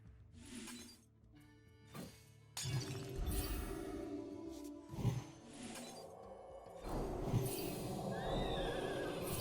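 Horse neighing from the Hearthstone card game, a loud whinny near the end among game effects, with a glass-shattering crash and hoof clip-clops mixed into a busy, layered game soundtrack.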